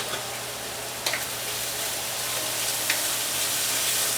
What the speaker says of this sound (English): And then I'm going to go ahead and saute that.